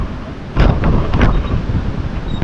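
Loud wind buffets the microphone aboard a boat in a steady roaring rush, with gusty surges and a low rumble out on open water.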